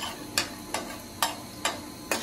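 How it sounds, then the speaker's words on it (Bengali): Semai vermicelli being fried in oil and stirred in a pan: five sharp, evenly spaced scraping strokes over a faint, low background. "আমি একটু তেল দিয়ে নিয়েছি, যাতে হচ্ছে এটা একদম পুড়ে না যায় আর ভেতরে ভালোভাবে হয়, ভাজা ভাজা হয়।"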